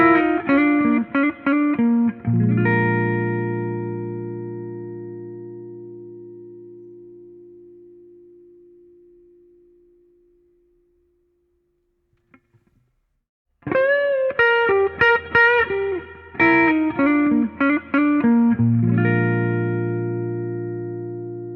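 Clean electric guitar through a Boss Katana MkII Artist amp on its clean channel, with an even, compressed tone, plays chords and picked notes, sustains into silence, then resumes playing alone.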